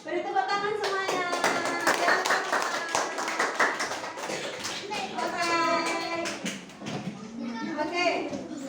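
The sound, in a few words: children clapping hands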